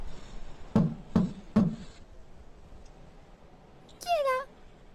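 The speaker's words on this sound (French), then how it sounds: "Le loup frappe à la porte." Three sharp knocks on a door in quick succession, then a short pause and a cat's meow.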